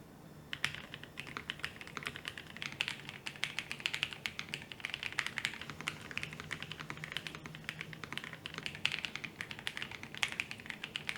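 Typing on a low-profile, top-mount keyboard fitted with N1 Nano switches: a steady stream of quick, light clicks and taps at a brisk, even pace, close and fairly quiet, with no voices.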